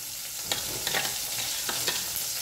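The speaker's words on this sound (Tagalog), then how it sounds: "Igigisa ko ito siya sa sardinas na talbos kamote." Sweet potato leaves and sardines sautéing in a pan in a home kitchen in Masbate, giving a steady soft sizzle with a few sharp stirring scrapes spaced through it.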